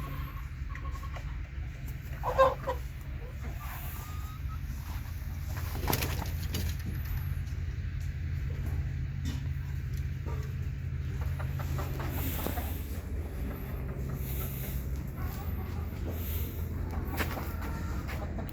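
Native chickens and roosters on a farm give scattered, moderately distant clucks and soft coos over a constant outdoor background hum, with no talking.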